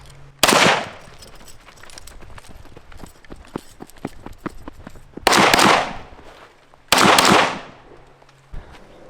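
Three loud, sharp SKS rifle reports ring out on an outdoor shooting course, widely spaced, with softer clatter and small knocks between the shots.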